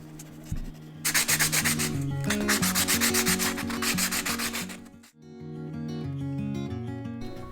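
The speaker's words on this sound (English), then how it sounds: "before painting I need to sand them in order for paint to be able to stick onto the surface of these plastic eggs" Rapid rhythmic sanding strokes rasp against plastic eggs being prepared for paint, loud and close for several seconds, then pausing briefly before lighter rubbing resumes over soft background music.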